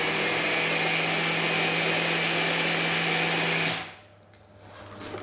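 An electric mixer churns a crumbly shortbread mixture in a bowl, a loud, steady whirring drone that cuts off abruptly near the end, leaving quiet room tone.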